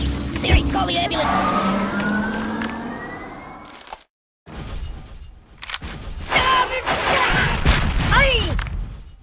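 Ambulance siren in the Kick the Buddy mobile game, a loud wailing emergency siren amid cartoonish game effects, broken by a brief silent gap before more rising and falling tones, with a voice speaking over parts.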